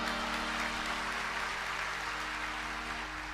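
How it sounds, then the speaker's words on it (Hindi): An audience at a devotional discourse on the Sundarkand claps steadily, a soft, continuous wash of applause over a low hum from the hall's sound system. "जब 50 योजन के नाम पर ताली बजा"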